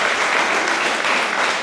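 Wedding guests give a loud, dense round of applause, sustained and even throughout, with no voices over it.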